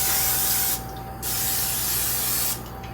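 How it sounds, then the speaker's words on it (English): Two short hissing bursts of aerosol non-stick cooking spray onto skillets, the first about half a second long and the second brief, over a quiet kitchen background with a faint steady hum. "I'm gonna grab some non-stick spray. I'm gonna spray both of those a little bit."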